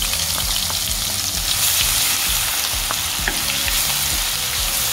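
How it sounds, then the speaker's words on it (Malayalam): Ginger, garlic and shallot paste frying in hot oil for a sardine curry, a loud, close, continuous sizzle layered with rapid, constant stirring and scraping of the pan, no one talking. "നമ്മൾ കൈ എടുക്കാതെ ഇളക്കിക്കൊണ്ടിരിക്കണം"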